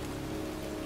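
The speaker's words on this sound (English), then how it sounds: "And here I am, standing in a cemetery, pouring rain" Heavy rain pours down steadily on a cemetery in the video game Heavy Rain, a dense, continuous hiss of rain with no pauses.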